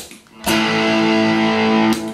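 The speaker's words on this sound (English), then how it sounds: "I'm using my MXR 78 custom badass distortion." Electric guitar played through an MXR 78 Custom Badass distortion pedal, with the amp set fairly clean, rings out as one loud sustained distorted chord that starts abruptly and holds for about a second and a half before cutting off.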